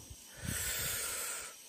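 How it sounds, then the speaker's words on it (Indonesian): Strong wind gusts in a dense overgrown area near an old well, a steady broad hissing roar that swells briefly and holds, heard close and fairly loud with no talking. "anginnya kencang banget ini"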